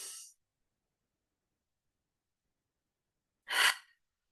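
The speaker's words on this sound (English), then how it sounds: "Taking a deep breath in." A single deep breath drawn in, faint and alone after a short exhale-like breath at the start, with silence between.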